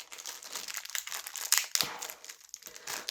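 Plastic toy figure packaging crinkles and crackles as taped stands are pulled free, a close series of irregular rustles and crunches with sharper snaps midway.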